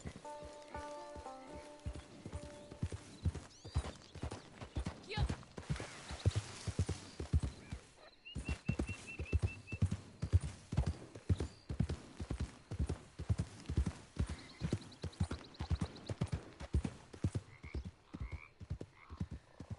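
Horse hooves clip-clop steadily as a rider travels in Red Dead Redemption 2. The close, rhythmic hoofbeats continue throughout, with a brief pause partway before the gait resumes.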